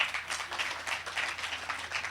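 Audience at a Mahakali spiritual sadhna camp applauding on cue, a steady wash of many hands clapping together at moderate level for a couple of seconds, with no talk over it.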